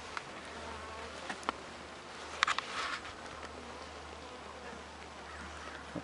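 Honeybees at a dying hive buzz in a steady faint drone, with a few insects passing closer and a brief louder burst in the middle, outdoors during hive inspection.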